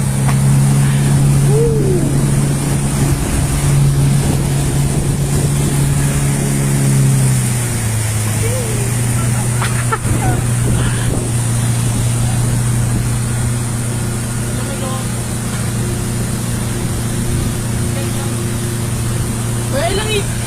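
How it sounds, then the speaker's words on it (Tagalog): A motorboat engine drones steadily throughout a ride at Nuvali, Santa Rosa, Laguna, Philippines, its pitch dropping midway, with wind and water noise and occasional voices over it. "Boat ride."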